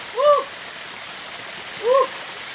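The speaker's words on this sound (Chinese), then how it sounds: "龙华2瀑布啊！" Longhua waterfall at Bukit Perdana, Batu Pahat, gives a steady, soft rush of falling water throughout, with two brief vocal exclamations rising above it.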